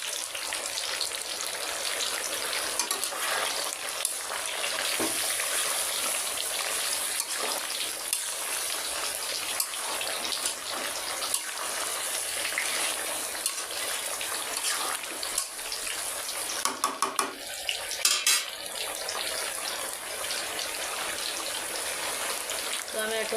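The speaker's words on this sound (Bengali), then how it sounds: "চালটা ভাজবো" Rice sizzling in a pan with bay leaves, cinnamon and cardamom as pulao is started, a steady close crackle and hiss throughout with occasional louder stirring clatter near the end.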